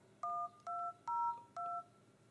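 Touch tones from the keypad of a Motorola MOTOLUXE phone dialer, four short clear beeps in a steady rhythm, loud and close with nothing else heard.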